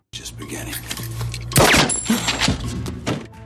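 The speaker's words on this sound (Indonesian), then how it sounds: "itu suara tembakan" Sharp bursts of movie gunfire crack in quick succession amid metallic clangs and clatter, loud and close, aboard a hijacked ship.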